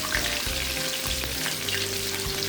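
Chicken pieces frying in hot oil for barbecue fried chicken, giving a dense, continuous sizzle with low bubbling underneath, close and steady without talk.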